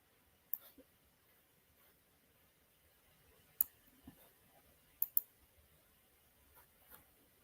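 A computer mouse clicks a few times, with sharp isolated clicks spaced irregularly against near silence, faint and close.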